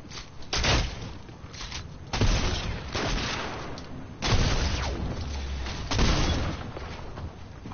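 Gunfire in a video game comes in four loud bursts of rapid shots, each spaced about two seconds apart, with each volley fading into a quieter rumble before the next one hits.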